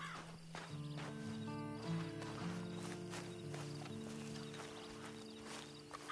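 Steady clip-clop of horse hooves in a PS4 video game over a sustained musical drone, evenly paced and moderately loud throughout.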